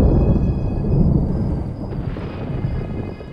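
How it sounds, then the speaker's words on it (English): Thunder from a thunderstorm rumbles loudly and continuously in a cartoon scene, a deep rolling roar that slowly eases off, with a faint steady hiss of rain or wind beneath. "storm looks pretty bad."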